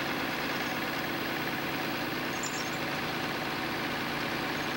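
A forestry skidder creeping slowly forward while a tire chain is fitted, giving off a steady, loud, droning engine hum with no talking.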